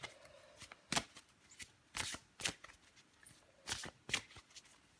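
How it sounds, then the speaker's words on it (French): Tarot cards being shuffled by hand before one is drawn, a series of crisp riffling bursts and soft slaps in an irregular rhythm, close and fairly quiet, no talking. "Je vais encore tirer une carte pour vous, les Sagittaires."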